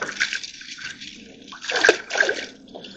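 Water running in a deep main creek, a steady broad rush and trickle with a few louder splashing surges near the end, close by with no talk.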